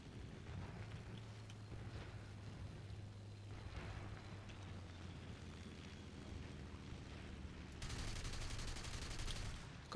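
Rapid machine-gun bursts from a Bf 109 F-4 fighter firing at an LA-5 in the War Thunder game, sitting in a steady rumble of engine noise, with a louder, denser stretch of fire near the end.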